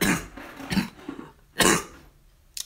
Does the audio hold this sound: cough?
yes